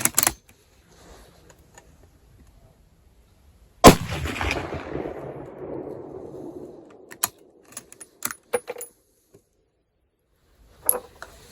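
A Mosin Nagant 91/59 carbine fires Czechoslovakian training ammo outdoors at a range: one sharp, loud shot with a long rolling echo, followed by several crisp metallic bolt clicks and clacks.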